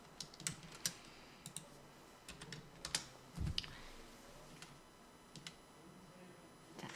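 Computer keyboard typing on an Excel spreadsheet, scattered key clicks in short bursts and single taps, fairly faint against a quiet room background.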